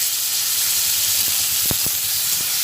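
Tomatoes frying in oil in a pan over a low gas flame, a loud steady hiss and sizzle with a few faint utensil knocks near the end, close and without voices.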